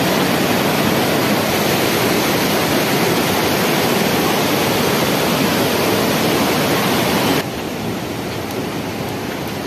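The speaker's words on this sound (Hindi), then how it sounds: "पूरा झरने का लोकेशन दिखा रहा है।" A steady, loud roar of rushing water from Hirni waterfall in Jharkhand, India, continuous throughout and dropping slightly in level near the end, with no voices.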